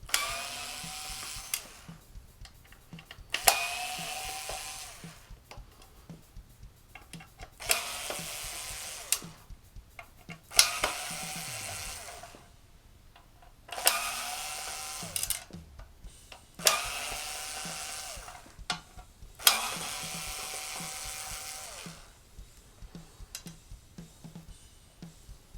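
A driver backs screws out of the plastic casing of a Roland FD-8 hi-hat pedal. There are about eight short bursts of whirring, each ending in a click, separated by quiet gaps.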